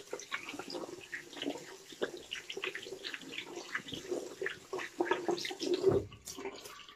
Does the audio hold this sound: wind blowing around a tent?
no